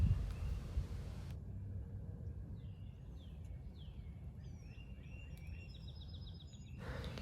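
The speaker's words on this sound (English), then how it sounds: "listen to the birds" Birds sing at a pine forest camp in spring, a scattering of faint, high chirps and short warbles set back against a steady low outdoor rumble.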